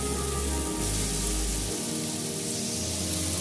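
A small splash of water poured over softened tomatoes in a hot pan for egg omelette curry, giving a steady broadband hiss and sizzle that holds throughout, with a low hum underneath.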